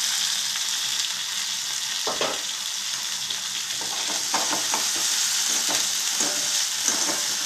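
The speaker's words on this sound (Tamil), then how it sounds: "அந்த 1 தக்காளி பழத்தை போட்டுறேன்." Tomato dropped into potatoes frying in a pan, a steady bright sizzle throughout with intermittent scraping and stirring clatter from the utensil.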